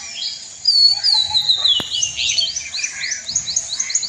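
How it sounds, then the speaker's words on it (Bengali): Morning birdsong heard from a rooftop: several birds chirp and trill in quick repeated bursts, with one loud bird nearby and others further off, and a faint low background hum beneath. "সকালবেলা পাখির ডাক কি ভালো লাগে না শুনতে বন্ধুরা।"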